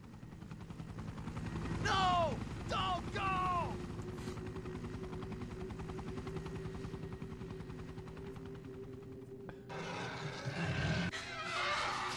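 Helicopter in the video game Resident Evil Director's Cut, a steady rotor drone with a loud burst near the end, mixed with sharp horse-like cries early on and someone talking over it.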